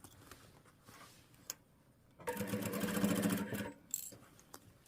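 A sewing machine runs a seam on a jumper with ribbed cuffs, a steady whirring stitch of about one and a half seconds in the middle, with quieter handling of fabric before and after.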